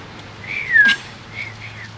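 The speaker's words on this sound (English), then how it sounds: "I can whistle." A child whistles a short rising-and-sliding tone, fairly close, with a faint breathy follow-up after it, over low indoor background hum.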